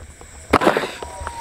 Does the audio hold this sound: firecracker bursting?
yes